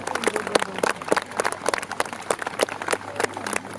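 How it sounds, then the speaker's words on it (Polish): A crowd at an outdoor military museum opening picnic applauds departing chevau-légers cavalry, with a dense run of many hands clapping at mid distance and some voices faintly underneath. "Żegnamy brawami szwanżerów."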